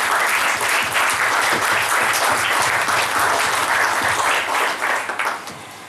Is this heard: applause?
yes